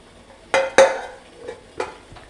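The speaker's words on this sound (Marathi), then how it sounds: "ह्याला आपण झाकण ठेवून देऊ सात मिनटासाठी" A metal lid set down on a pot of steaming modak flavoured with saffron, sounding as two sharp close clanks followed by a few softer knocks and taps of cookware.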